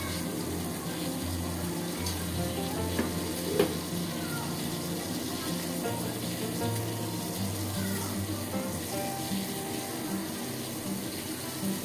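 Two cups of water for tea heat in a pot with a pinch of salt and a bay leaf, giving a steady low bubbling and simmering hiss that continues evenly throughout, with no voices.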